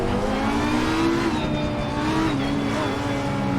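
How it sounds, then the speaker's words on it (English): Lamborghini Huracan GT3 EVO 2 race car in Assetto Corsa Competizione at Valencia, its engine droning loud and steady with rising and falling pitch sweeps as it revs, alone with no talk. "just listen to that engine. My God, that is so good to hear."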